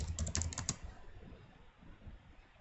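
Quick bursts of keystrokes on a computer keyboard, a short flurry of close clicks that trails off into quiet room tone.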